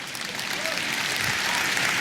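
Audience clapping at a business forum keynote, a broad, steady burst of many hands that swells slightly over two seconds, with some murmur mixed in.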